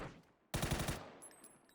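A sudden, loud burst of rapid gunfire from a PUBG esports match breaks a quiet background, with about half a second of close, rhythmic shots before it fades into lingering ambience.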